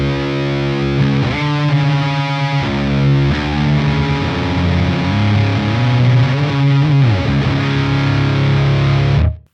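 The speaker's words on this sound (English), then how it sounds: "having the tight knob all the way down, you can get like really cool, flubby, fuzzy, doomy kind of tones" A heavily distorted electric guitar with a flubby, fuzzy, doomy tone from the Archetype: Rabea amp plugin rings out in sustained low chords and slides, thick and loud throughout before cutting off abruptly.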